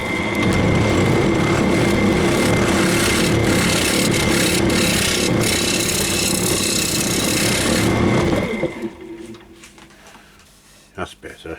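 A woodturning lathe skims the inside of an off-centre bowl on an eccentric chuck, a loud continuous rough scraping whir for about eight seconds before the cut stops and the machine winds down to quieter knocks.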